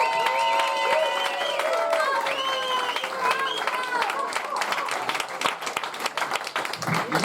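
Audience applause at a comedy championship finale, with dense clapping and crowd noise filling the room while excited voices and shouts ring over it, staying steady and close throughout.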